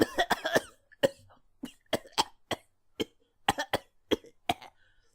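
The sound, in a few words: person imitating coughing and choking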